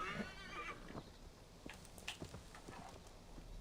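A horse whinnies briefly in the video game Assassin's Creed Valhalla, followed by scattered hoof clops and light rustling under a steady low background hum.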